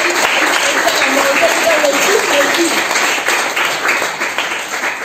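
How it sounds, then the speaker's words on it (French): Audience applause at a French-language children's church seminar, a dense, continuous clapping that stays loud and steady for several seconds before easing slightly toward the end. "On va acclamer."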